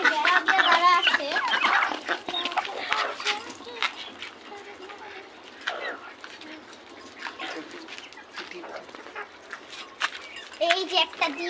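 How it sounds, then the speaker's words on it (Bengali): Chickens cluck and call at feeding time on a rooftop mini farm, their busy chatter steady and close throughout, with voices talking over the flock. "আমরা এখন খাবারও দিব মুরগিতে।"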